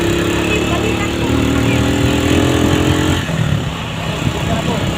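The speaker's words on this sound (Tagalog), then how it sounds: "Hirap na yung motor." A motorcycle engine strains under load, a continuous loud droning hum that holds steady and then drops in pitch as it labours, with voices talking over it.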